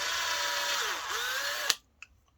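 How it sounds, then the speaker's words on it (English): A cordless drill with a 4mm bit bores a hole, its motor whining steadily, dipping in pitch as it bites, then stopping abruptly, followed by a faint click. "and I'm just going to drill a hole there."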